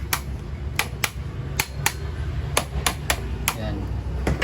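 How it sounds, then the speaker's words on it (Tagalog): A hammer taps repeatedly on the bushing of an electric fan being repaired, a quick irregular run of sharp metallic knocks, fairly close and distinct. "pupugin lang natin yan martilyo"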